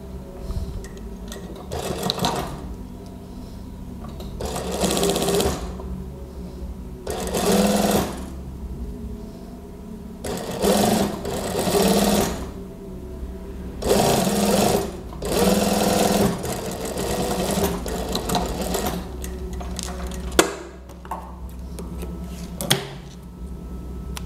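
A sewing machine stitches the front and back body panels of a gamis cardigan in repeated bursts of fast, rattling whirring, separated by short quiet pauses, close and fairly loud throughout.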